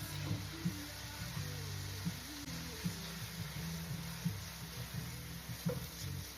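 Freshly minced garlic fries with onions in a pan, giving a soft, steady sizzle that stays faint and low throughout, alone without talk.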